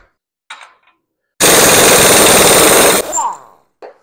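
An air-powered impact wrench works a bolt loose on a 1972 Harley-Davidson FX Shovelhead, hammering loudly in one rapid burst of about one and a half seconds, followed by an air hiss and a few faint clanks.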